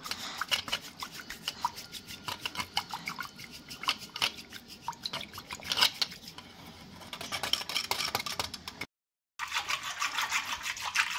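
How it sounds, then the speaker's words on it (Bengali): Sour curd (yogurt) for lassi being beaten by hand with a whisk, giving a fast, rhythmic stream of close, wet ticking and scraping strokes against the bowl, pausing briefly before picking up again. "তো এটা আমি 5 থেকে 7 মিনিট ধরে এরকম করে কিন্তু ফেটিয়ে নেব"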